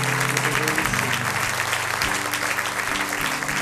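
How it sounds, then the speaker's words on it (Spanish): A church congregation claps steadily and continuously, with music playing underneath the applause. "Denle un aplauso al Señor."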